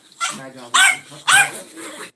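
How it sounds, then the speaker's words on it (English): A recorded Yorkie barking, used as a text-message ringtone: three sharp barks spaced roughly half a second apart, with a soft yip trailing after, near and fairly loud. "We had him barking, and that is now my ringtone for my text messages"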